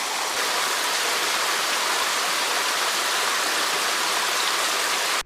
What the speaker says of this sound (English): This is Mountaineer Falls,